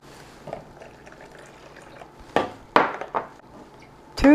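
Water is poured in short splashing bursts into a pot of strained cranberries in a home kitchen. Several liquid gushes come close together, with quieter handling noises between them.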